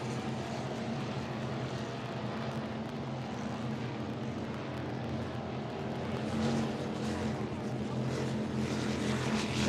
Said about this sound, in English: They've got the tractor pipes on that boat.